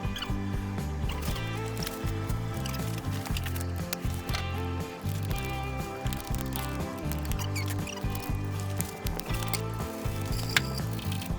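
A Ford 8N tractor engine cranks slowly on a weak battery, a continuous labored mechanical churning with repeated rhythmic clunks, close and steady throughout with no voice.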